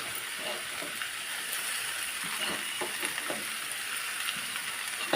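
Chopped ivy gourd and onion frying together in a pan, a steady close sizzle and crackle with occasional light scraping of a spoon, constant and fairly soft.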